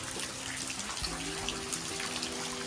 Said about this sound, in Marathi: आणि यो पाऊस पडते